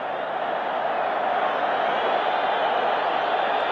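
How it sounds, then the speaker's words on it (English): Dense, continuous roar of a large football stadium crowd at a 1987-88 Boca Juniors versus River Plate match, a loud sustained wash of cheering with no breaks. "Listen at the crowd."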